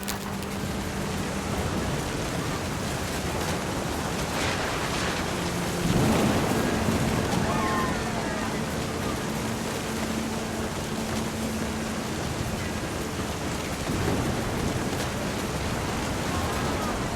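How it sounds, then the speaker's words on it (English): Steady rain and rumbling thunder from the video game What Remains of Edith Finch, a dense wash of rainfall with a deeper thunder swell around the middle and another later, with faint game music underneath. "The thunder sounded much too close and full of angry power"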